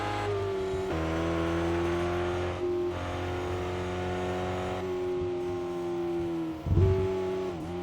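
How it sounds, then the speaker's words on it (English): A race car in the RevHead video game engine-brakes while downshifting, its steady harmonic engine drone shifting pitch at each gear change, with a brief burst near the end. "I'm gonna keep gearing down and use a motor engine brake."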